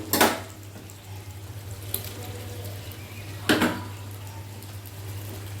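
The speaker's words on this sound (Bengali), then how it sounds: "ভেজে রাখা আলুটা দিয়ে দিলাম আর আলুটা দিয়েও খুব ভালো করে নেড়ে নেব।" Fried potatoes go into a mutton curry and are stirred in the pan. A few sharp clanks of a spoon against metal sound over a low, steady sizzle, with no talking.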